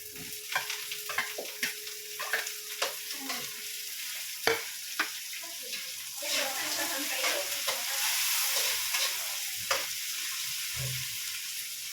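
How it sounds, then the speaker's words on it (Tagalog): Garlic and onion browning in hot oil give a steady, close sizzle, punctuated by sharp clicks and scrapes as a utensil stirs the pan, with no speech. "Brown na yung bawang sibuyas."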